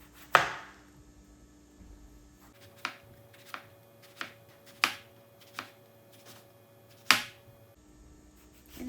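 A knife chops brinjals into thin circles on a board in a home kitchen, about nine sharp, close cuts spaced at irregular intervals over a quiet background.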